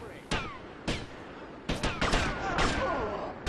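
Gunfire in Grand Theft Auto: Vice City, several sharp shots spaced apart and then a denser burst of overlapping bangs, with a voice talking throughout.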